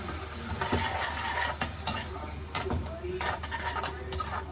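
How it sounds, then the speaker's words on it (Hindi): Tomato and onion cook in a kadhai that was just used for frying, with a steady sizzle broken by repeated scraping and clinks of a spoon stirring against the pan, with someone speaking at times. "थोड़ा सा टमाटर को पकने देते हैं।"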